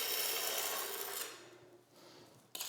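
Excess thinset mortar being wiped off floor tiles, a broad, fairly loud scraping rub that fades out after a second, then a softer second rub and a short sharp knock at the end.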